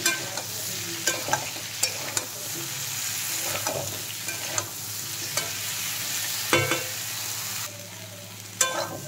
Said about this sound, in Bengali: বেগুনগুলো আলুর সাথে আরেকটু ভেজে নেব।